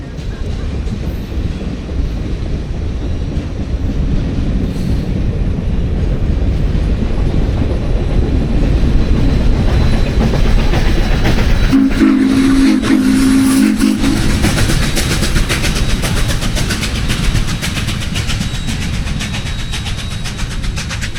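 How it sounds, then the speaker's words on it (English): A steam locomotive with an auxiliary water tender and seven coaches backs up close by with a constant low roar, and a brief higher mechanical hum rises midway through. "we had a quite substantial train with the steam locomotive, auxiliary water tender, and 7 coaches"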